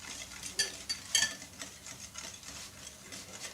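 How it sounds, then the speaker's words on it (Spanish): Chocolate cake batter with egg being stirred in a bowl, quiet scraping and light clinks of a utensil against the bowl in an uneven rhythm, close and faint. "Y vamos mezclándola."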